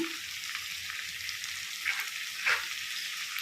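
Vegetable biryani mix with tomato, coriander and mint sizzling softly in a pan, a steady faint fry with a couple of brief stirring scrapes.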